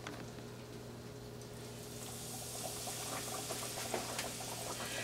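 Catfish fries in hot, reused fish grease, giving a steady, dense crackling sizzle that swells slightly louder partway through, with a faint low hum underneath and no voices.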